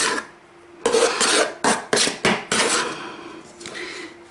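Scraping chocolate cake batter and cream from a mixing bowl with a utensil: a run of rasping strokes, several short and close, some longer, heard alone with no voices.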